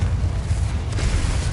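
Rumbling, booming blast of the Confringo spell in a Harry Potter video game, a sustained low roar with a brief brighter burst partway through, loud and continuous with no talk.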